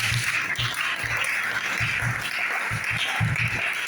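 A church congregation applauds steadily throughout in praise of the Lord during an Easter service, a dense continuous clapping that fills the room alone with no talk.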